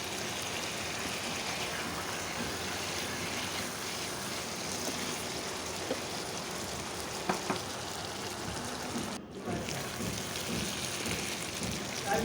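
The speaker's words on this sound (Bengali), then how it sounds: "মাংসটা আরও কিছু সময় নিয়ে ভাজি করব, জলটা একেবারে টানিয়ে নিব।" Meat fries in a pan while its water cooks off, a constant dense crackling sizzle like rain on a surface, fairly loud and close, with a brief dip and a couple of soft knocks, no talking.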